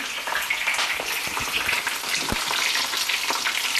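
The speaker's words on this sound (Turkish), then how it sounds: "Şimdi de biber kızartıyorum." Peppers sizzle and crackle steadily in a hot pan with oil, a close, continuous hiss dotted with small pops.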